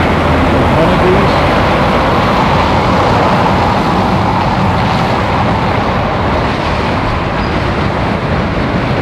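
A convoy of liveried trucks passing on the road near a motorway services, a loud, steady roar of heavy engines and tyres rolling by close at hand.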